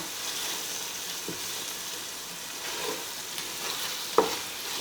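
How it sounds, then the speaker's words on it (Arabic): A Moroccan pastilla filling cooks down and dries in a pan, giving a steady close sizzle with occasional scraping clicks from stirring and one sharper knock near the end; no one speaks. "ها هي التغميره كيف كتولي كتنشف جيدا"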